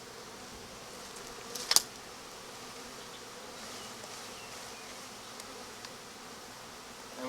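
Honey bees buzz in a low, steady drone as they are shaken and dumped into a hive, with one brief sharp knock near the start and no voices.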